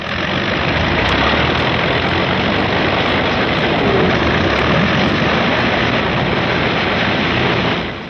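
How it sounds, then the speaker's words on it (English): Several P-51 fighter planes warm up their engines on the line before a long 1945 mission, a steady, loud, dense engine roar that holds unbroken for the whole stretch and fades slightly at the end. "General Moore's P-51s are warming up for the longest fighter flight on record"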